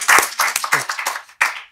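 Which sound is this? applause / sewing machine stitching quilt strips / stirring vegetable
applause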